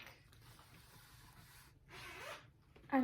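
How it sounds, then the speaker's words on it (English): A clothing zipper is pulled in two quick, soft strokes near a quiet indoor room, each a brief raspy zip, with a louder knock at the end. "I'm really trying to make it so the zippers aren't loud."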